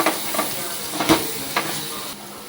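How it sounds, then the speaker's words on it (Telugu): Chicken curry simmers in a pan with a steady sizzle and hiss while a spoon scrapes and stirs through it in several short, close strokes. "కర్రీ ఉడుకుతుందండి, కొంచెం కలుపుకుందాం."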